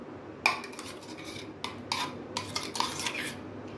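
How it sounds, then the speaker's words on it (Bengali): Spoon or spatula clatters against a pot as mango pieces for mango kasundi are mixed together, with scattered scraping and knocking strokes at an uneven pace, close and clear. "এই সব আমগুলো এবার একসঙ্গে মিশিয়ে দেবো"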